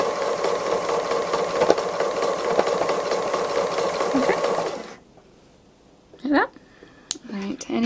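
A sewing machine zigzags back and forth in free motion embroidery around a robin's eye, running as a fast, steady whirring rattle for about five seconds before stopping, then a few brief handling sounds.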